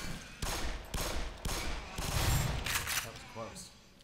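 Gunfire in the video game Black Mesa: several sharp bursts of shots in quick succession, fairly loud, alongside a player talking over the action.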